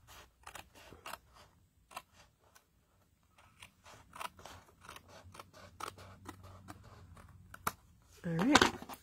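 Scissors trim paper in a series of sharp, close snips and crisp cuts, scattered irregularly through the stretch, with a louder rustle and snap of handled paper near the end.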